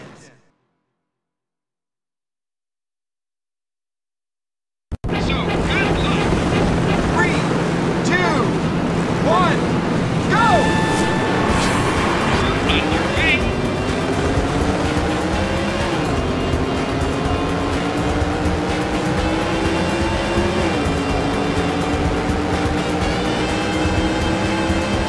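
Race car engines roar in the Daytona USA 2001 racing game on Dreamcast, starting after about five seconds of silence, then droning loudly and steadily with repeated rising and falling gear-shift pitch sweeps.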